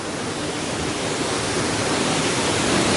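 A waterfall plunging 70 metres in Voden, Macedonia roars as a loud, steady, broadband rush of falling water, close and continuous with no voices.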